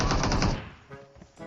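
Automatic gunfire in the mobile battle-royale game PUBG Mobile, a dense loud burst of rapid shots for the first half second that thins into a few scattered, quieter pops.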